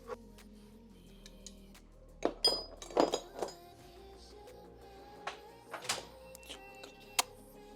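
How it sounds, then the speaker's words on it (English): Lost metal bolts clink as they are gathered up during repair work on a Toyota Supra Mk4 with a 2JZ engine, giving faint scattered taps with a cluster of sharper clinks near the middle and a few later. "So we're picking up bolts that we lost"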